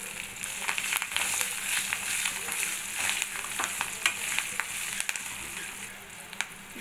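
Curry leaves, garlic cloves, mustard seeds and cumin sizzle and crackle in hot oil for coconut chutney, a dense steady frying hiss with sharp pops and stirring scrapes, close and loud.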